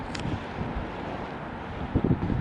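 Steady wind buffeting the microphone, a low rumbling roar throughout with brief stronger gusts near the end.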